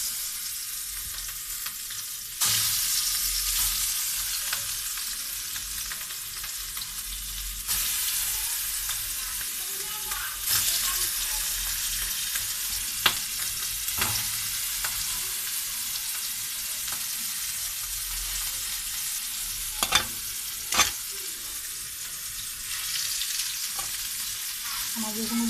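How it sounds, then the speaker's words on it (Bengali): Hilsa fish coated in turmeric and salt fries in a pan with a loud, continuous close sizzle that swells as pieces go in, plus occasional sharp clicks and scrapes and no talking. "এখন আমি মাছটা ভেজে নেব।"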